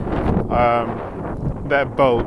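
Outdoor wind buffets the microphone at the Cradle of Humankind site in South Africa, a steady low rumble running loud beneath a person speaking throughout.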